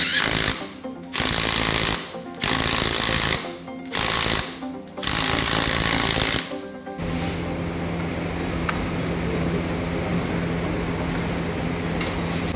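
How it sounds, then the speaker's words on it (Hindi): On a Bajaj Chetak 3501 scooter, a power tool tightens the number plate in five loud, rapid rattling bursts separated by short pauses, followed by a steady lower hum of background noise. "अब भैया ये नंबर प्लेट टाइट कर रहे हैं।"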